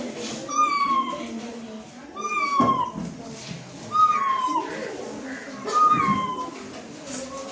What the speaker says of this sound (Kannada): ನಮ್ಮ ಮನೆಯ ಬೆಕ್ಕು ನನ್ನ ಕಾಲ ಹಿಂದೆ ಸುತ್ತುತ್ತಾ ಹೀಗೆ ಕೂಗ್ತಾ ಇತ್ತು.